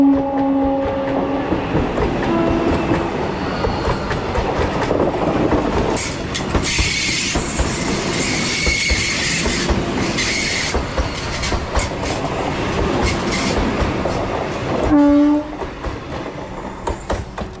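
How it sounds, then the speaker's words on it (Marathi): A Vande Bharat express train passes close by on the railway line: a loud, sustained rumble of wheels with rhythmic clickety-clack, then a brief horn blast near the end as the noise begins to fade. "ही गेली ती वंदे भारत ट्रेन"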